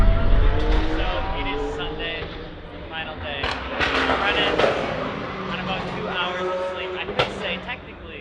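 Race cars roar past at the Le Mans 24 Hours, engines rising and fading in repeated pass-bys with sharp bursts, heard over crowd chatter and talking.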